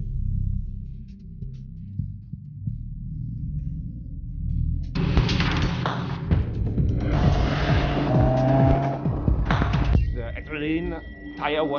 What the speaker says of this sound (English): We're driving golfs on a handling circuit.